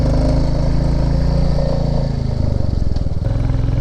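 Motorcycle engine laboring hard at high revs on a steep mountain climb on a Spiti and Kinnaur valley ride, a loud, steady, close drone with a slight dip in pitch near the end.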